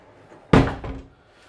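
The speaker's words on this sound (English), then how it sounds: "the other option you've got is that there's a pocket door here, which shuts across" Pocket door on a Pearl 95 yacht sliding shut across the galley entrance, ending in a single sharp thud with a brief rattle, close and loud.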